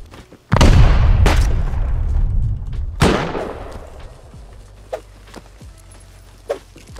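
Satchel charge blowing up in Rust: a loud, close boom followed by a rumbling tail, a second blast about two seconds later, then scattered faint clicks and thuds.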